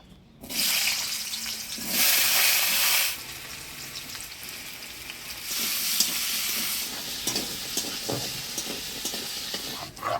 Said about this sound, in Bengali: রান্না করার জন্য আলুটা হলুদ লবণ দিয়ে ভাজি নেব